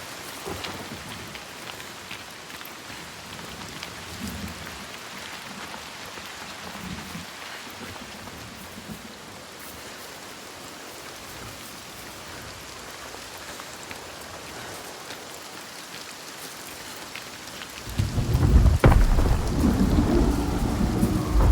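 Rainstorm with thunder in the video game Senua's Saga: Hellblade 2, a continuous hiss of rain that swells near the end into a loud, close thunder rumble.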